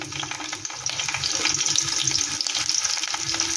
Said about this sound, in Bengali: তেলটা গরম হয়ে গেছে, আমি দিয়ে দিচ্ছি প্রথমে একটা বড় সাইজের পেঁয়াজ